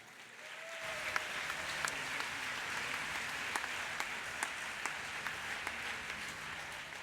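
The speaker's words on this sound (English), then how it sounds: "you're a pretty good crowd if you're applauding to my evacuation speech" Audience applause at a health sciences graduation ceremony, dense continuous clapping from a large crowd, steady and moderately distant, lasting several seconds after a brief quiet start.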